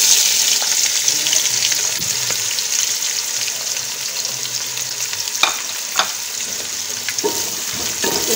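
Onions frying in a hot pan with cumin and spices for a beef curry, a steady loud sizzle throughout with occasional stirring clinks, no talk.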